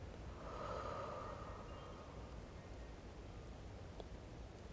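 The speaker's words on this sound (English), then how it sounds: "Breathe out." A slow exhale during a guided meditation sounds as a soft, breathy rush over steady background hiss, fading gradually with no talk.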